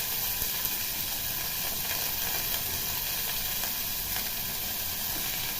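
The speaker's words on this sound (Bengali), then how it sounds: "আমি সবজিগুলো একটু ভালো করে লাল লাল করে ভেজে নেব।" Mixed vegetables, including cauliflower, carrot, potato and beans, frying in oil with salt; a steady, even sizzle runs throughout without pause, at a moderate level and fairly close.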